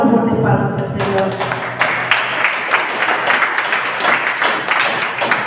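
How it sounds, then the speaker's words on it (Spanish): A church congregation claps loudly and rhythmically in quick repeated beats during a Spanish-language sermon, with a voice over the start before the clapping takes over. "Damos fuertes palmas al Señor."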